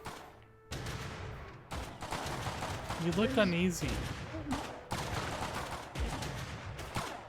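Gunfire in the DeadZone SMP video game: several sharp shots crack out in bursts, mixed with game sounds while a person talks over them.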